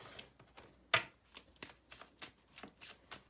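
Vintage Wisdom Oracle cards are shuffled by hand close up, giving a quiet run of crisp riffling and slapping bursts at an irregular rhythm.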